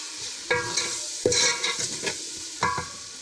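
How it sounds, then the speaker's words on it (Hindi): Spices and masala sizzle in a pan for an egg and chickpea curry, with a steady frying hiss broken by several scraping stirs of a spoon, close and alone. "इसको हम अच्छे से 5 से 10 मिनट तक ये भूनेंगे"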